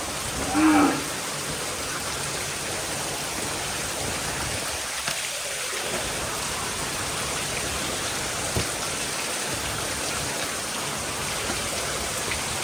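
Steady rain falls at a Kankrej cow farm, a dense continuous patter on surfaces throughout, with a brief low moo-like sound near the start and occasional faint knocks.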